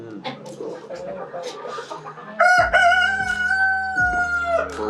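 A native country rooster crows loudly and close by on a farm in Theni, one long cock-a-doodle-doo after some clucking and people talking nearby.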